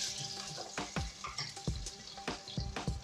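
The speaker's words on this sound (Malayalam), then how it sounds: "ഓയിൽ ചൂടായി വരുമ്പോൾ ഒരു ചെറിയൊരു ഒനിയൻ ആഡ് ചെയ്ത് കൊടുക്കുക" Small onion dropped into hot sunflower oil, a steady close sizzle of frying with several sharp stirring or spatula knocks spaced through it.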